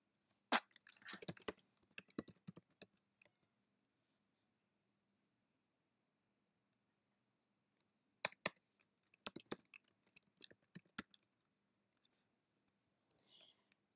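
Quiet, rapid clicking at a computer desk while working in a dashboard dialog, in two bursts of dense taps separated by several seconds of silence.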